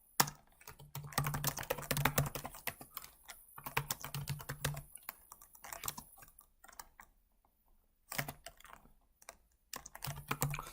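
Typing on a computer keyboard while entering commands in a cloud shell: quick clattering keystroke bursts, near and clear, separated by short pauses with no talk.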